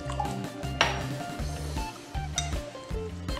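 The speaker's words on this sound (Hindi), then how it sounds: "अच्छे से इसको मिक्स कर लेंगे।" A spoon scrapes and clinks around a bowl as a thick vegetable batter of chopped capsicum, onion and water is mixed, steady rhythmic strokes close up with occasional sharper taps against the rim.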